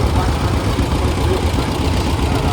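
An antique Allis-Chalmers-style WC tractor engine runs at a parade, a loud, steady low rumble with continuous mechanical chugging, close by and without a break.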